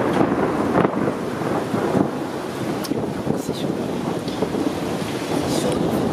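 A thunderstorm with heavy rain pours down outdoors, a dense steady roar of rain with wind buffeting the microphone and a few sharp crackles, loud and close throughout.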